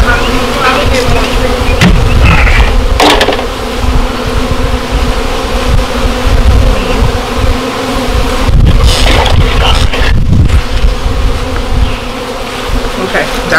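A dense swarm of honey bees buzzes loudly around brood comb taken from a hive, a constant close drone with occasional thumps and handling knocks and brief voices underneath.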